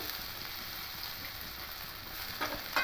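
Tempering spices sizzle and crackle in hot oil in a pan while being stirred, a soft continuous frying hiss, quiet and close, with a couple of sharper scrapes near the end.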